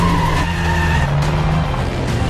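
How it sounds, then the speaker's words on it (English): A record-breaking race truck, heard from above, roars past at high speed with a loud, sustained engine tone and tyre noise that swells and shifts pitch as it goes by, with no talk. "Just below us is probably a new FIA world record breaking truck."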